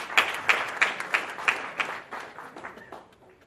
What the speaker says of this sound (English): I think they should deserve applause.